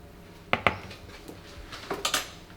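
Baking powder, cinnamon and salt being stirred in a bowl for apple pie, with a utensil clinking against the bowl in a few quick knocks, two near the start and a cluster toward the end, close and quiet.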